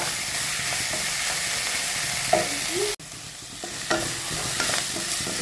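Chopped onion and curry leaves stir-fry in a hot pan for a drumstick-leaf thoran, giving a steady loud sizzle with scraping stirs; a brief sharp knock interrupts midway, then the frying continues.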